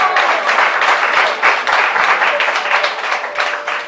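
An audience at a Christian preaching event acclaims the name of Mathias Kavi with a loud, steady burst of applause and clapping that fills the room for several seconds, with no voice heard over it.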